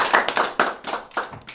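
An audience at a meeting with war veterans in Dashkasan claps in short, close bursts of hand slaps that rise and fade over about a second and a half, with no speech.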